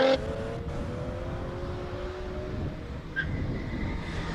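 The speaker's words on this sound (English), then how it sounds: "Next up on the start line, we have Marius Draper in the BMW 330 2006 year model, 6-cylinder, normally aspirated." A 2006 BMW 330 E90 with a naturally aspirated six-cylinder engine revs at a hill-climb start, its rising engine tone sweeping upward over steady background rumble, no voices.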